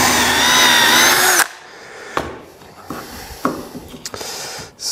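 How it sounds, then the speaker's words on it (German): A power drill whines loudly for over a second as it bores into wood with a centering bit, then stops, followed by a few scattered knocks and clicks. "Jetzt bohren wir das Ganze mal rein."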